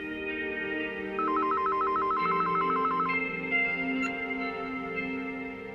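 A telephone rings in a warbling electronic trill over a soft background music score, one ring burst lasting about two seconds.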